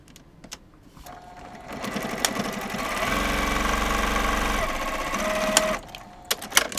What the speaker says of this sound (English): I'm just going to do my French seam again right now.